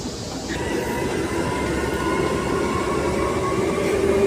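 Interior of a moving MRT metro train, a loud steady rumble of wheels on rails with faint high squeals and tonal hum, continuous throughout with no talking.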